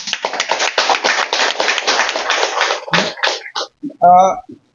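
An audience at an event honouring Jungleghat fishermen who rescued their stranded fellows claps in a run of quick, close bursts, then a few scattered claps and a short tonal sound at the end.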